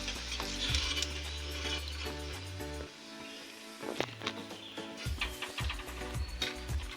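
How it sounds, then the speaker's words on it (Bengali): Fuchka puris deep-frying in oil for Kolkata street-food style fuchka, a steady close sizzle and bubbling with scattered crackles and faint clicks; no one speaks. "দেখছো এরকম কিরকম ভাজা হচ্ছে, লাল লাল করে ফুলে ফুলে উঠবে"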